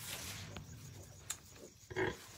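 Piglets on a ranch squabble over a sow's teats: brief, faint grunts and squeals, with a couple of sharper bursts near the end.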